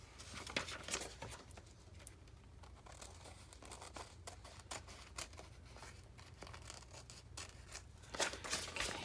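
Scissors trim paper for a handmade journal, a series of soft snipping and crinkling sounds, close and quiet, with irregular cuts and a slightly louder burst near the end.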